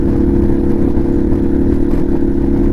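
Indian Chieftain motorcycle with the 112 Power Plus engine running at a steady, loud idle-to-cruise rumble, a dense low throb with a faint clatter carrying through the whole stretch, no voices.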